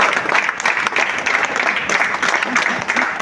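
Audience applause welcoming guests onstage, loud dense clapping from a crowd that holds steady for a few seconds with faint voices mixed in.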